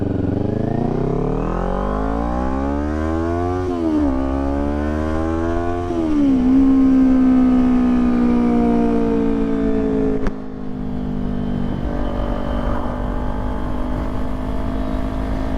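A Kawasaki Ninja 400 fitted with a Coffman's Shorty slip-on exhaust drones loudly up close, its revs climbing and easing off in waves before settling into a steady, throaty run.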